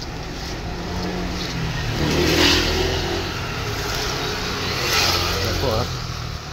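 Cars revving as they struggle through a flooded street in Quezon City, engines droning and swelling under steady rushing water noise, with a voice talking in the background.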